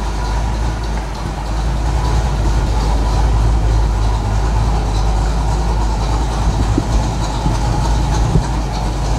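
A 1932 Ford five-window coupe street rod idling after sitting for a long time, a loud, steady low rumble that continues throughout with no talk.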